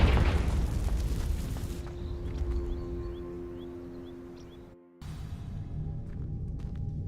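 A fire spell explosion bursts and crackles as flames catch dry vines in the Hogwarts Legacy video game, loud at first then settling into a steady burning roar that briefly cuts out before resuming.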